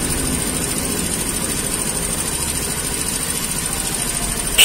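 Suzuki Choi Nori 50cc two-stroke mini motorbike engine idling steadily after restoration, a continuous buzzing rumble held at a constant level throughout with no voices.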